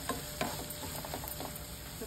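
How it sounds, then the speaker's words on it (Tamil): A couple of brinjals sautéing in a little oil for a village-style prawn curry, with soft scraping stirs and a faint sizzle throughout, no voices. "ஒரு ரெண்டு கத்திரிக்காய் கொஞ்சம் எண்ணெயில் வதக்கணும்"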